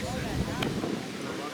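A gust of wind buffets the microphone at an outdoor youth baseball game, a steady rough roar lasting the whole moment with faint background voices underneath.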